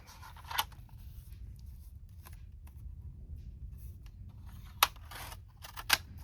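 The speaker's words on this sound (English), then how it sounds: "So we're gonna cut this." Scissors snipping paper while decorating a dust jacket journal, a few sharp isolated cuts spaced out over quiet room background.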